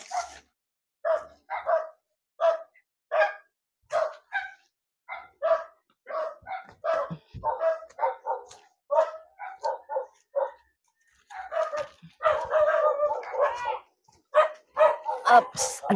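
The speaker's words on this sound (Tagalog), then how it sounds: "ang dami dito ang aso" Several dogs barking on a mountain farm, repeated sharp barks and yips in an irregular rhythm, fairly close and loud, with a denser flurry of overlapping barks near the end.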